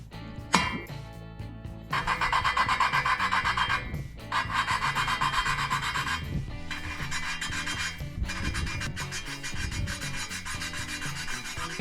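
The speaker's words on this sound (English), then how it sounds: "So now I will go ahead and lap these valves in just to make sure." Engine valves on a 420cc minibike engine being lapped by hand with valve grinding compound: steady gritty rubbing and rasping strokes in repeated bursts with short pauses, close up and moderately loud, no talking.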